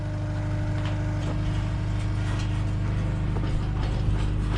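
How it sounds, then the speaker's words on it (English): Old metal ranch gate being opened, with clanking latch and ratcheting mechanical noises over a steady low idling hum, likely from the nearby skid steer. "Let's get the old gate opened up here so we can take the skid steer in."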